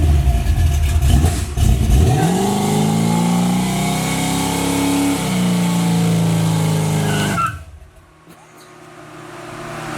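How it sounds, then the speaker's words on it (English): A Chevy box car on 26-inch rims revs through a low-RPM burnout, its engine note climbing and holding loud and close for several seconds before abruptly dropping off, leaving quieter background noise. "Low RPM burnout."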